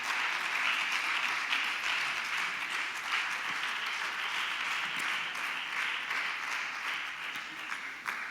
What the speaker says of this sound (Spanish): Dan un aplauso a la palabra en esta hora, en el nombre de Jesús.